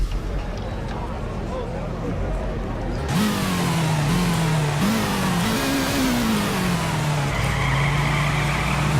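A race car in the Nitro Nation drag-racing game launches from a steady idle into hard acceleration, engine pitch climbing in waves through quick gear shifts, while someone comments over it.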